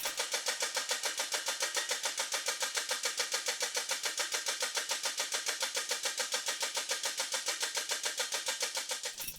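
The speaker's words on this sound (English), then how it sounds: "we actually take the housing and rotate it back and forth" Test machine rotating a Chrysler RFE transmission housing back and forth against a clutch plate, giving a steady, rapid mechanical pulsing chatter that runs continuously and evenly.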